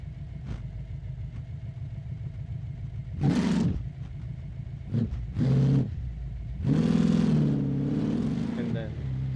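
A race car engine fitted with nitrous in the driving game BeamNG drive idles with a steady low rumble, broken by several loud bursts of revving, each lasting about a second.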